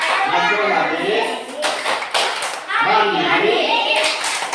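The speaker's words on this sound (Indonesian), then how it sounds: "ayo mulai tepuk PPK" A crowd of standing kids does the PPK clap chant, with a few bursts of hand claps set against loud unison chanting in two main phrases.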